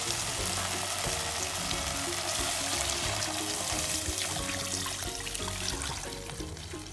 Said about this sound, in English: Now I have to cover it with water and leave it cooking.